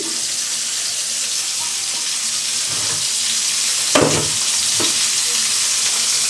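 Onion, chili, ginger and garlic tossed into a hot pan for vegetable khichuri, giving a loud, continuous sizzle close up, with a sharp clatter of stirring partway through.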